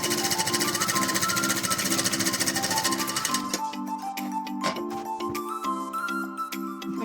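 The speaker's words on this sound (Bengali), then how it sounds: "এবার এই কোমরের যে ঘেরটা এইটাকে সোজা সেলাই করতে হবে" A sewing machine runs fast and steady, rattling as it stitches a straight seam around the waist of a girl's umbrella frock. It then stops, and soft clicks and fabric handling follow close by.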